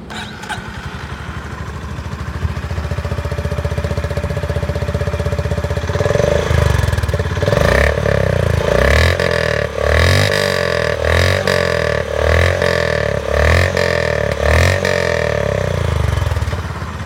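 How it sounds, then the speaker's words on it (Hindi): A motorcycle with a straight exhaust muffler starts and settles into a loud, close, steady idle with a throbbing exhaust note that holds for the rest of the stretch. "एग्जॉस्ट मफलर भी आप देख सकते हो पूरा का पूरा स्ट्रेट है"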